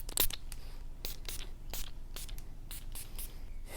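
Several short hissing bursts of a Tom Ford Taormina Orange fragrance bottle being sprayed, a handful of quick sprays spaced out over a few seconds, close and fairly soft.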